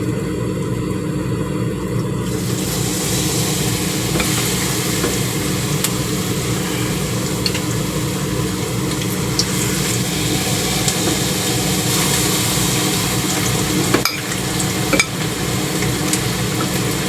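A squash mixture being stirred in a frying pan for kalabasa tempura, a continuous loud sizzle with scraping of the spoon against the pan and a couple of sharp knocks late on.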